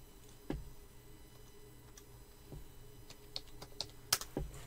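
Quiet typing on a computer keyboard: irregular soft key clicks, a few sharper taps, close to the microphone in a still room with no talk.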